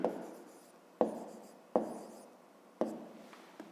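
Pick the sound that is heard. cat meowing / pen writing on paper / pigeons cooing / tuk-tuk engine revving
pen writing on paper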